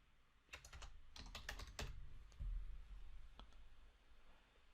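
Quick bursts of keystrokes on a computer keyboard, close but quiet, clustered clicks with brief pauses and a few isolated taps at the end.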